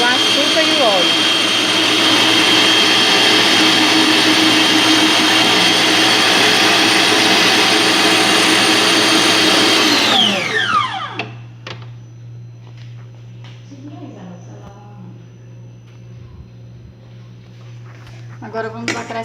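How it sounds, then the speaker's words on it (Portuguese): An electric mixer beats eggs, sugar and oil for a cassava cake, a loud steady whirring drone that runs for about ten seconds, then winds down and stops, leaving quiet background clatter. "Aí eu vou batendo os ovos, o açúcar e o óleo."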